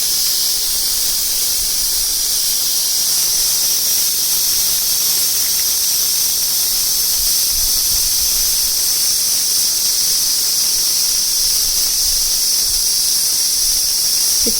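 A pressure cooker holding roasted horse gram vents steam in a continuous loud hiss that stays constant and alone for the whole stretch.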